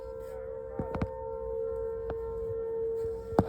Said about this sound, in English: You hear those sirens? Yeah, every what, Tuesday of the month or something? They test the siren.